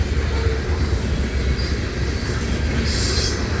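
Manifest freight train hauling maintenance of way equipment rolls past at close range, a loud continuous rumble of wheels on rail with a brief high squeal near the end.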